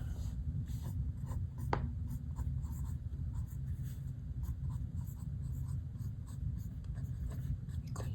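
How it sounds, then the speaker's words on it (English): A pen or pencil scratches out numbers by hand for a third-grade addition problem, with faint, soft strokes and taps over a steady low background hum. "So I'm going to write that again on the side."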